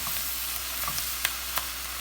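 Shredded cabbage frying and browning in a pan, a steady close broadband sizzle with a few soft clicks and taps of stirring rising briefly above it, no talk.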